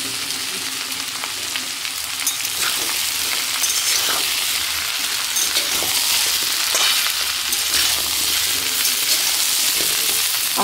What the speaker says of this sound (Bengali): আস্তে আস্তে সুন্দর করে ভেজে নেব।